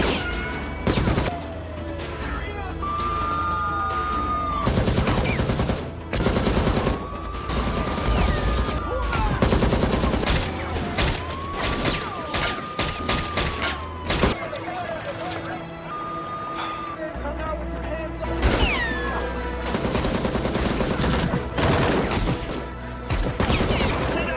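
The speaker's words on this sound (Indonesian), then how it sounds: "Dia pun beraksi mengeluarkan tembakan" A police shootout in an action film, with a dense run of sharp gunshots and bursts of fire, some rapid like a fusillade, mixed with crashes and other loud action sounds throughout.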